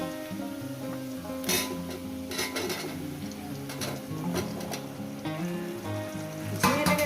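Ridge gourd frying in a pan, a soft low sizzle broken by intermittent louder crackling bursts, with a faint tonal hum running underneath.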